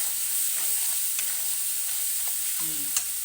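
A ground masala paste roasts and is stirred in a pan for a village-style goat brain recipe, giving a quiet, steady sizzle broken by a few soft scraping clicks from the spoon.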